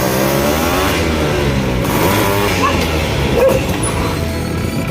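A modified Yamaha RX135 two-stroke motorcycle on a test ride: a loud, raspy engine note rises and falls with throttle changes, close and rough throughout the ride.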